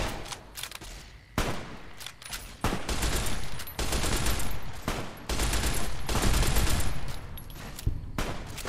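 Sustained gunfire in Fallout: New Vegas on Hardcore mode during the Flags of Our Foul-Ups quest at REPCONN Headquarters: loud, continuous volleys of overlapping shots with brief dips between bursts, and no voices.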